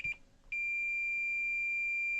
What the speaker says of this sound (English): we get a nice little tone. That's great for finding continuity in circuits